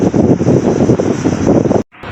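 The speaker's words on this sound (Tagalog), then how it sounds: "Lakas kasi ng hangin. Malakas yung hangin." Strong seaside wind buffets the microphone in a loud, continuous roar, then cuts out abruptly near the end.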